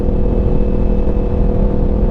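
Tuned motorcycle with aftermarket stacks and a new tune, engine running hard at high revs: a loud, close, continuous buzzing drone holds steady for about two seconds.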